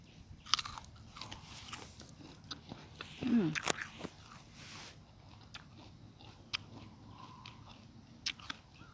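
Someone bites into crisp, ripe JJ Red fruit at a farm in Sisaket, making a few quiet, crunchy bites and chewing sounds. Soft background noise surrounds them.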